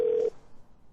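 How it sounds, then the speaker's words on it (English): Answering machine beep: a single short, clear electronic tone lasting about a quarter second, then quiet line hiss. "At the tone, please record your message."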